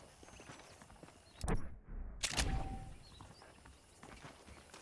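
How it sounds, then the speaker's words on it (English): Saddled horses in the Western video game Red Dead Redemption, hooves clip-clopping softly at a walk with a couple of louder bursts in the middle, faint game ambience around them. "The horses are saddled up over here."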